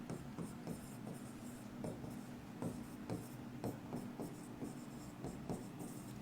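Logarithm working is written on a board during a lesson, with repeated quiet scratching strokes and light taps in uneven succession, faint and close, over a low room hum.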